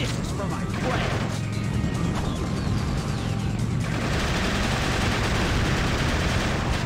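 Gunfire from a gun in Shadow the Hedgehog crackles in rapid repeated bursts with crashing impacts, loud and continuous, while someone talks over the action.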